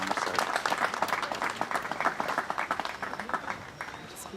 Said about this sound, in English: Are you ready for the clap?